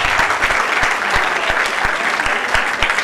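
Audience at a stand-up comedy show claps steadily and loudly throughout, a dense wash of applause with a few sharp individual claps standing out, and no talking over it.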